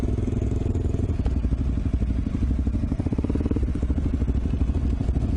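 A DR dual sport motorcycle ridden along a single track trail, its mid-pitched engine thrumming steadily and loudly throughout with rattling clatter from the bike, no talk.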